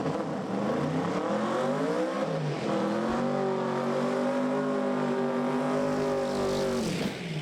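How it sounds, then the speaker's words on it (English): Pro Mod drag race cars launch at Santa Pod Raceway with a loud, sustained engine roar that climbs in pitch as they accelerate away, heavy and continuous throughout. "Jon Webster spins the tyres unusually. Nick Davis, though, keeps his foot in it"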